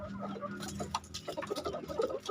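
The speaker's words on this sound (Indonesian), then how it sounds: "ini ayam-ayam" Chickens in a semi-free-range coop cluck and murmur steadily, a busy flock heard at moderate distance with overlapping short calls and a faint background hum.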